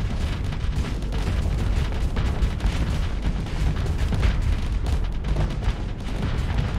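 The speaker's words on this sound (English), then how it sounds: "weapons kind of in range. Let's fire." Ship weapons firing in the space combat game Starsector, a dense continuous barrage of booming blasts and rumbling impacts layered together, loud and sustained without talk.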